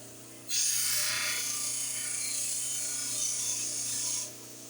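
Edges of a small piece being ground, a single continuous high, hissing grinding whine that starts abruptly, holds steady for about four seconds over a low background hum, then stops.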